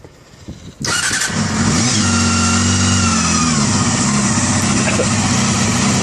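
A Honda CBR250 motorcycle engine cranks and catches after a quiet moment, then revs up loudly and settles into a strong, steady running drone nearby.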